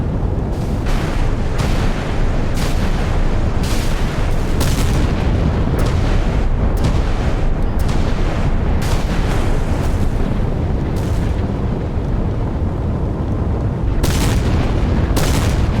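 Naval gun fire and explosions in the naval warfare game Sea Power, a steady roaring barrage with repeated sharp booming reports at irregular intervals over a dense low rumble.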